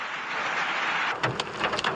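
Heavy unseasonal rain with a hailstorm in Amravati drums down as a loud, steady hiss, then sharper scattered impacts and knocks break in over the last second.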